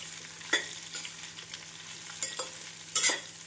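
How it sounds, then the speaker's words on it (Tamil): Soft sizzling of raw mango frying in oil, with a few sharper clinks and scrapes as it is stirred, no voices. "1 நிமிடம் நன்றாக வதக்க வேண்டும்."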